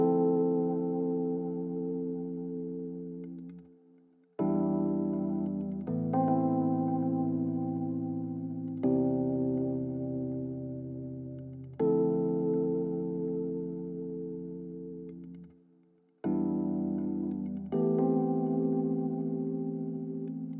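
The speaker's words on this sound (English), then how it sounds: "And then lastly, I added this electric piano." Soft electric piano chords ring out one after another, each held and slowly decaying, mellow and sustained with no voices.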